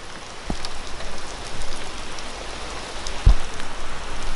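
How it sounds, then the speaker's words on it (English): Rain falls steadily outdoors in a constant soft hiss of drops on surfaces, with a few louder taps and a sharp knock standing out near the end. "It's fucking raining ass."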